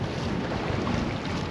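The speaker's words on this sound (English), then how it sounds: "And now here's that wind I was talking about." Strong wind buffets the microphone on a boat fishing in Moreton Bay, a loud, continuous roaring rumble with no break.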